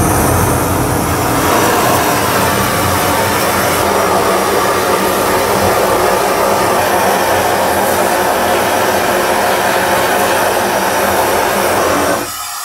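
Steady roaring hiss of a goldsmith's soldering torch heating a small silver piece such as an egg cup foot, loud and continuous for about twelve seconds before cutting off abruptly at the end.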